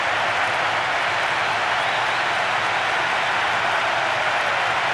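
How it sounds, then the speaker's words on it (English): Stadium crowd in the PES 6 football video game cheering a goal celebration, a steady, loud, broadband roar of many voices holding constant throughout with no clear talk above it. "The crowd are enjoying the goal celebration."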